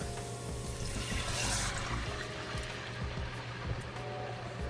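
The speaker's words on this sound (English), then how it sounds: "So now I'm going to add my stock" Stock pours into a pot of pinto beans with turkey, a faint watery splash and trickle that swells briefly early on and then fades into a low steady background hum.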